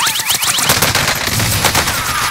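Dense, rapid gunfire from a video game shooter, overlapping automatic bursts and single shots crackling loudly and continuously throughout with no pauses.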